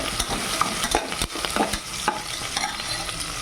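Crushed garlic and curry leaves fry in hot oil for khichdi while a spoon stirs and scrapes the pan, giving a close, busy sizzle broken by repeated sharp clacks of the utensil.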